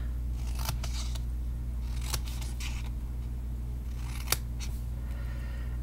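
Scissors snip through paper for a Stampin' Up gift project, with a few sharp, separate cuts over a steady low background hum and no talking.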